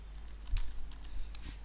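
A few soft keystrokes on a computer keyboard, two or three light taps close by over a low steady hum, no voices.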